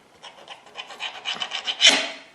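A knife saws back and forth through Parker House roll dough, giving a close run of soft rasping strokes that grow louder and end in a stronger scrape.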